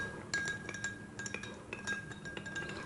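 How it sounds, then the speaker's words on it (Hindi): A metal spoon clinks repeatedly against a glass jug as a spoonful of sherbet ingredient is added, giving a series of bright, close ringing taps with no speech. "1 चम्मच भर के मैं इसमें ये डालूँगी"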